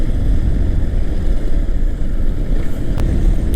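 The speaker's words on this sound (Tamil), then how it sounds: "அந்த சைலன்சரோட சவுண்டு எந்த அளவுக்கு கேட்குதுங்கிறத கீழே கமெண்ட் செக்ஷனில் கமெண்ட் பண்ணுங்கள்" Motorcycle exhaust through its silencer while riding on the road, a steady loud low rumble mixed with heavy wind buffeting on the microphone throughout, no voices.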